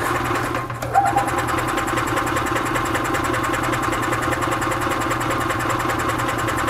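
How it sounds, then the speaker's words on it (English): A gas engine on a 2005 EZGO TXT golf cart cranks and catches without choke, then settles into a steady, close, buzzing idle with an even rapid pulse. "let's see if this engine will actually start and run without choke"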